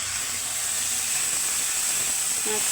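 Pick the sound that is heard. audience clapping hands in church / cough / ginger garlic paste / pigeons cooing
ginger garlic paste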